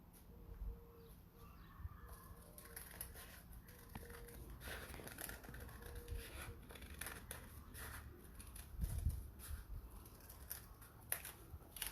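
Scissors cut through paper for a sketched unicorn poster, giving faint, quiet snips and crisp rustles that repeat irregularly in a hushed room.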